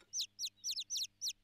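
Great tit chicks in a cartoon backyard nest let out a rapid run of six or so high, sharp chirps in quick bursts, close and clear, with no talking.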